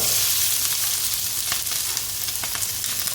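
Onions frying in hot oil in a wok, giving a steady, loud, close sizzle with faint crackles and a few light scrapes throughout, with no voices.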